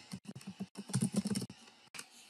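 Quick keystrokes on a computer keyboard while entering a terminal command in VS Code, a close, quiet burst of clustered clicks followed by a short pause and one last tap.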